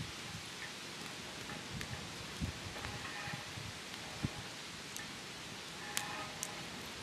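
Steady broadband outdoor wind noise at a campfire with rustling, a few soft crackles and knocks, no voices.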